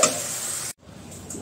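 Potatoes frying in a pan alongside vegetarian khichuri, a continuous bright sizzle that cuts off abruptly, then resumes more softly with faint spatters.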